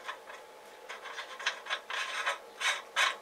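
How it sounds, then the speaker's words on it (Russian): Nuts being tightened onto a vacuum chamber cap with a washer in place, heard as a series of close, scratchy rasping and ratcheting bursts that grow denser toward the end. "Устанавливаю шайбу, затягиваю гайками."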